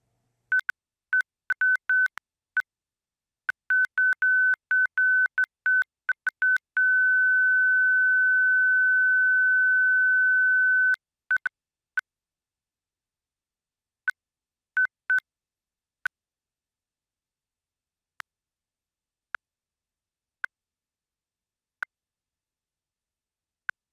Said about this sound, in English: I'm going to plug my cell phone into one of the transmitters and I'm going to play a tone.